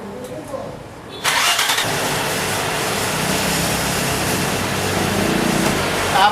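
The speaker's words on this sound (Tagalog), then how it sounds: "Paanda rin ko lang po yung makina." A 1997 Nissan Cefiro with a hard-starting fault and a missing crankshaft sensor signal fires up abruptly after a brief quiet moment, then settles into a loud, steady idle close by.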